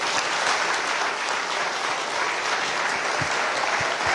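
Guests at a formal appointment dinner for an ambassador clap together in a full, steady round of applause, dense and even throughout with a couple of sharper nearby claps near the end.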